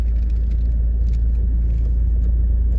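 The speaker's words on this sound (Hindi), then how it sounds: "अच्छा, गाड़ी थोड़ी मैं अलाइन कर लेता हूँ, टेढ़ी खड़ी है अभी।" A Toyota Fortuner is edged into alignment at night, its engine giving a steady, loud low rumble up close with no break in the sound.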